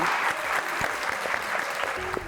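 An audience on a talk show claps to welcome a singer, a sustained, even wash of applause with a faint tone near the end and no clear voices.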